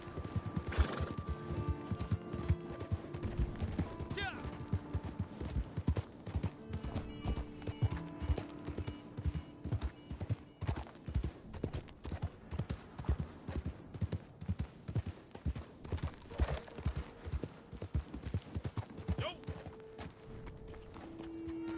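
Horse hooves clip-clop steadily in Red Dead Redemption 2 on PS4, with several whinnies breaking through near the start and midway, the trotting rhythm continuous and close throughout.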